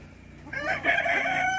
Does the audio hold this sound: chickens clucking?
yes